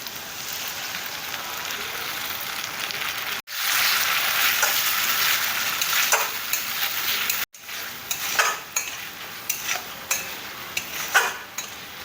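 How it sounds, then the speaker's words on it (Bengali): Spices and raw ground cashew paste fry steadily in an oil-filled pan, a continuous close sizzle broken by two brief silent cuts and punctuated by scraping stirs and light utensil clicks. "প্রায় সব মশলা ভাজা হয়ে গিয়েছে"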